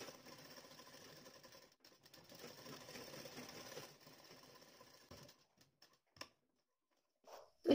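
Sewing machine stitching a seam on a collar-neck blouse, a close, soft rapid whirring patter that runs steadily for about five seconds, then stops with a few faint clicks and handling noises.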